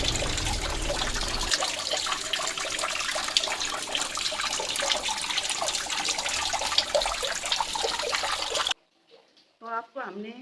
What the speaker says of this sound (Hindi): उसकी जगह पे ये जो है पानी की धारा वो बहने लगी